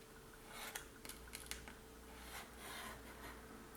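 Scissors make small snipping cuts through paper for a scrapbooking journal booklet. A few crisp, close clicks and rasps sit over a steady low hum.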